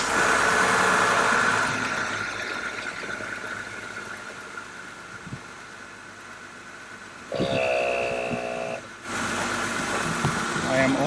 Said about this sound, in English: you'll hear the air compressor kick in momentarily and then shut off